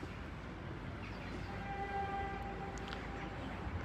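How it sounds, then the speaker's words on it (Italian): A 1958 series 3000 tram, modernised in 1977 and converted into a theatre tram with an opening side panel, rumbles steadily with a continuous rolling hum and a faint high whine over the running noise. "Il tram è una motrice serie 3000 del 1958, rimodernata nel 1977."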